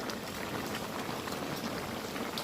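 Fish curry simmers in a pot with a dense, steady bubbling and spattering hiss that stays uniform and close throughout.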